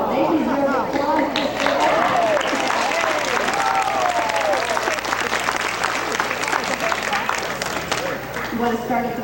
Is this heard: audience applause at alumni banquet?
yes